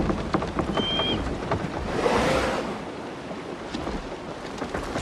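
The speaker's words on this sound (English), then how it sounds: "Just listen to that rain." Rain falls in Assassin's Creed Shadows as a steady broadband wash with a soft swell of gusting air in the middle, heard alone with no talk.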